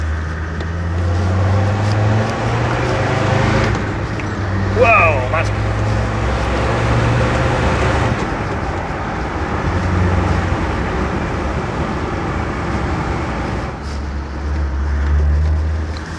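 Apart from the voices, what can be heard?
restored Land Rover Defender accelerating on test drive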